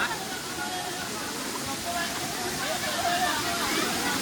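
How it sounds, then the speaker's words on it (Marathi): A small hillside waterfall fed by a village stream pours in a steady, close hiss of rushing water with no break throughout. "इकडे खालती आपला धबधबा हा बघा तुम्ही बघू शकता"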